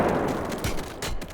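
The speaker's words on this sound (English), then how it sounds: "And so sequential grenade explosions can be quite useful." A grenade blast in the VR shooter H3VR, heard as a booming burst followed by a second sharp crack and rumbling debris, loud and alone with no talking.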